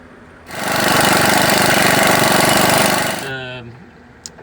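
Close, loud impact wrench hammering steadily on a track bar bolt of a 1999–2004 Ford F250 during a leveling kit install, running about three seconds before spinning down.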